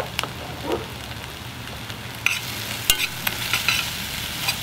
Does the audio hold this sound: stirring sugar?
yes